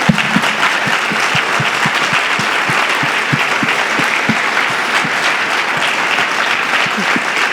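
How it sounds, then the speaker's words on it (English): A large conference audience stands and gives itself a big round of applause, dense loud clapping from many hands sustained evenly throughout, with crowd noise mixed in. "Stand up, give yourselves a big round of applause."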